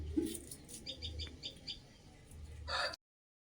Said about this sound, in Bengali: না চড়ি পাখির ডাক আলাদাই ডাকছে দেখছো একটা আলাদা আওয়াজ